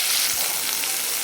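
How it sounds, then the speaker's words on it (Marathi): Ginger-garlic paste with freshly ground masala fries in oil in a pan, a loud, dense, unbroken hissing sizzle close by with no speech. "आणि चांगलं तेल सेपरेट होईपर्यंत आपल्याला याला परतून घ्यायचं"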